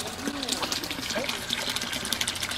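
Water splashes and trickles steadily from a garden rain barrel, close and continuous, while people talk over it.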